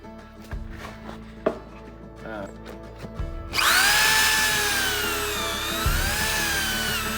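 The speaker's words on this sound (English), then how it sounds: "You can actually just lock it in here one time and drill a pair of holes" A few clunks and clicks of clamping a pocket-hole jig, then a power drill whines loudly into a 1x4 wood board, bogging and rising as it bores pocket holes.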